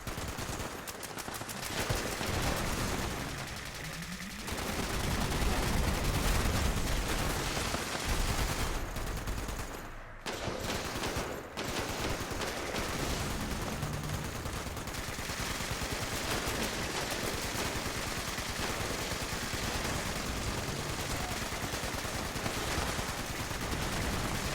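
Gunfire from the Fallout 76 video game rattles in dense, sustained bursts of rapid automatic fire. The shooting is loud and close, with a short lull before the firing resumes, and no voices are heard.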